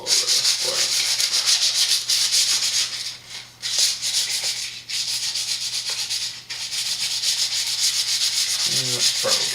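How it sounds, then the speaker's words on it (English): A fly rod blank is scuffed with sandpaper, giving a continuous close-up scratchy rasp in steady back-and-forth strokes with a couple of brief pauses. "trying to do it evenly, getting some good scuff marks all over this blank"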